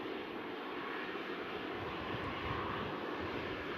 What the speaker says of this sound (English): The old style reverse thrust.